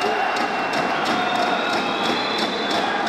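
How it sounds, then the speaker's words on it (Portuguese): A fan crowd roars continuously inside a gymnasium during an MMA bout, a dense, steady wall of cheering and shouting that holds at the same level throughout. "Torcida do Punk também fazendo muito barulho aqui no ginásio da Uniútolo"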